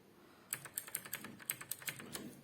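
Typing on a Cosmic Byte CB-GK-27 Vanth mechanical keyboard: a quick run of crisp, close clicking keystrokes in an uneven rhythm over a quiet room, with no talk.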